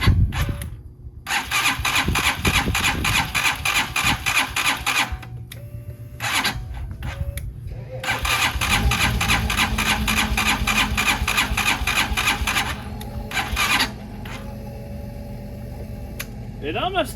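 A Hawk DLX engine cranks and sputters in 10°F cold, with repeated long starter bursts that nearly catch, a short low idle between attempts, and a loud, close, rattling mechanical drone.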